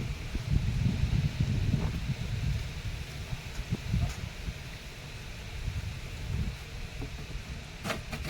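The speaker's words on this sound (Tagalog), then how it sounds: "Lalo pa lumakas yung hangin," Strong wind gusting outdoors at an aquaponics setup, a steady low roar buffeting the microphone for the whole stretch, with brief rustles and a few faint knocks near the end.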